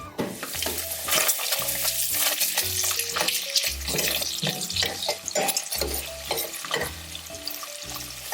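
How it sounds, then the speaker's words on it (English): Three-meat chili stirred and scraped across the bottom of a pan, with steady sizzling and irregular scraping strokes, close and fairly loud, no talking. "So I'm moving it around in the bottom of the pan because it's starting to get to that point where it might want to stick."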